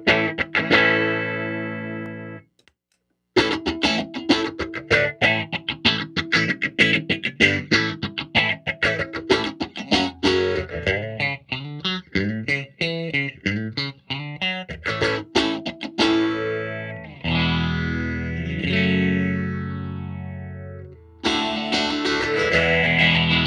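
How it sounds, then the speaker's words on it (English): An electric guitar plays chords and riffs, first dry, then through an Electro-Harmonix Bad Stone phase shifter pedal with a sweeping phaser effect that swirls through the notes. "I'm going to play the guitar without the phaser and then kick it in."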